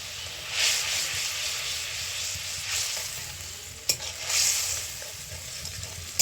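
Tomato paste with ground cumin and coriander fries in a pan for a prawn and pointed gourd dish, hissing steadily up close with bursts of louder sizzle and a couple of sharp utensil knocks against the pan.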